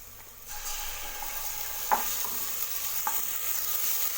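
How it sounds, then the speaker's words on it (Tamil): Ginger garlic paste frying with golden onions in a pan for a chickpea gravy, a steady soft sizzle with a few light scraping stirs of a spoon against the pan, close and alone. "இஞ்சி பூண்டு பேஸ்ட்டோட பச்சை ஸ்மெல் போகிற அளவுக்கு வதக்கி விட்டுக்கோங்க"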